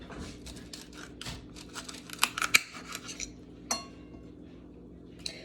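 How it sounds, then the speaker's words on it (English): Knife cutting through wet celery on a board, a quick run of crisp snaps and crunchy chops, close and fairly quiet, with a couple of sharper clicks midway and no talking. "Always cut off the end of your celery."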